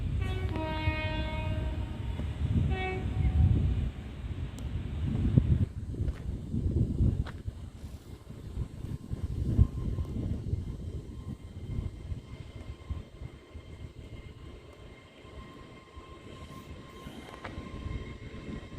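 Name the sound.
LNER train departing Doncaster station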